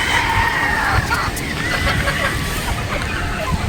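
Chickens on a Batangas game farm, with rooster crowing and clucking over a steady background hubbub and faint voices throughout.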